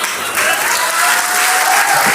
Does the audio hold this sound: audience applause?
yes